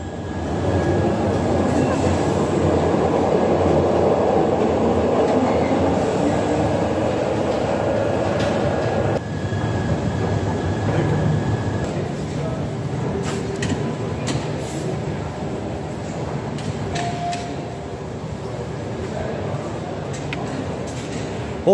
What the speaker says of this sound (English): Hope you enjoyed the subway ride.